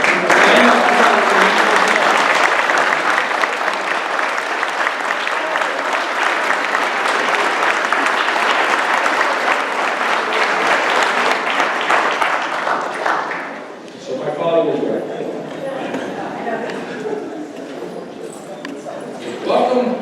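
A large crowd at a graduation ceremony applauds loudly and steadily for several seconds, then the clapping thins out and fades to scattered claps.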